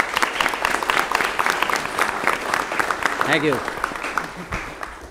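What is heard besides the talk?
audience applause at city meeting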